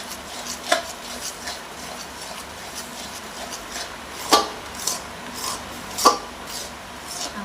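A spoon stirs sugar syrup in a pan for Mohanthal, making a soft, steady scraping rub punctuated by a few sharper clinks against the metal, close by and without talk.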